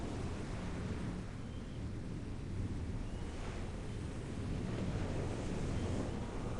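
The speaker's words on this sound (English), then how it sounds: "I hear waves." Ocean waves breaking on a sandy shore with wind, a continuous broad wash of surf and blustery wind noise, steady and moderately faint, no voices.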